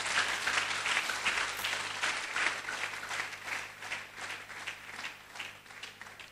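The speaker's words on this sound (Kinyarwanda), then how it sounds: "Se mwakomeye Imana amashyi basubirayo." A church congregation claps together in steady, moderately distant applause that rolls on evenly for several seconds, then starts to taper off at the end.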